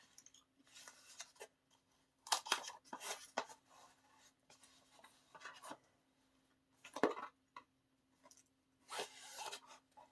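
A mailed package holding a coloring book being opened: quiet rustling, scraping and tearing of packaging in short irregular bursts, with several sharper rips, close up against a steady low electrical hum.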